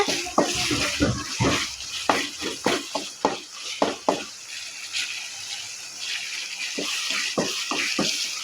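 Onions being stirred and sautéed in a pan for crab gravy, with repeated scraping strokes of a spoon against the pan over a steady sizzle, close and fairly loud, with no voice over the stirring.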